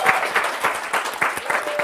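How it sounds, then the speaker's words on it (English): An audience at a Web Summit pitch day applauds, a dense steady patter of many hands clapping that continues evenly for about two seconds at moderate volume. "Applause!"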